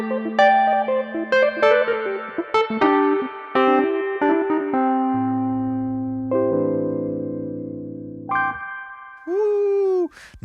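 Rhodes and Wurlitzer style electric piano plugin drenched in reverb plays a run of chords and melody over held low notes, then a few bright echoing notes near the end, with no talking.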